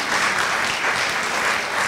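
An audience at a concert claps in a brief, dense burst of steady applause.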